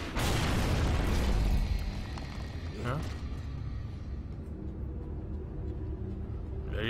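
A heavy boom bursts in the Gears of War video game, a loud low rumbling blast that fades into a quieter background with voices talking over it.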